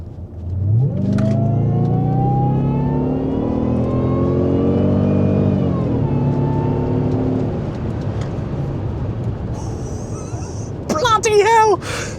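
A Jaguar XJR with a supercharged engine and a Stage 1 intake accelerates hard. The engine note is loud and climbs steadily through a long rev, then eases back, and excited shouting breaks out at the end.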